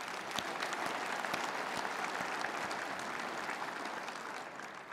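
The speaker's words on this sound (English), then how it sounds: "Let's show our applause." A crowd at a Michigan public event breaks into sustained applause, a thick, even roar of many hands heard from a slight distance, fairly soft and holding steady throughout.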